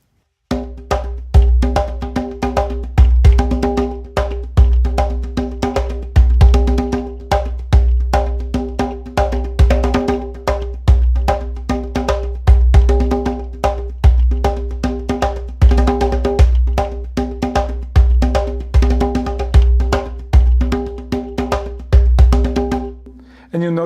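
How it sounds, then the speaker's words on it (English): Composite rhythm built from ceremonial polyrhythms on conga and quinto drums, with dense, steady interlocking strokes and slap tones running loud and continuous for about twenty-four seconds, with no talking. "And then together these create a composite rhythm that sounds like this."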